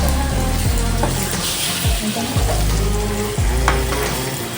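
Bitter gourd stuffing frying in oil while being stirred, a loud close sizzle broken by repeated scraping strokes of the spoon against the pan.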